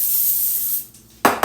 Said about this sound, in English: Let me spray this one.